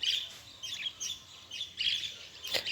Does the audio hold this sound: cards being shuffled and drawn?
no